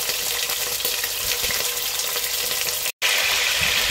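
Pork ribs frying in olive oil in a pot, a steady broadband sizzle and crackle running close and continuous, with a brief gap near the end before the hiss resumes.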